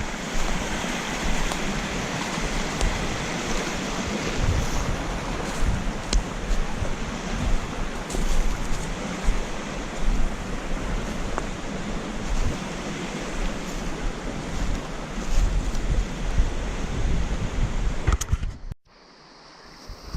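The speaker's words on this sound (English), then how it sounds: "Beautiful stream. Good trout stream." Mountain trout stream flowing over rocks, a steady broad rushing of water with wind buffeting the microphone, continuous and fairly close, ending with a brief drop to near silence.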